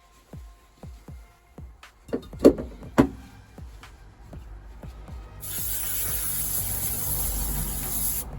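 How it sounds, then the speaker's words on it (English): An aerosol can sprays adhesive onto carpet for a VW T4 van's wheel arch, with several knocks and taps first, then a steady close hiss starting partway through and running to the end. "I think it's going to need more spray."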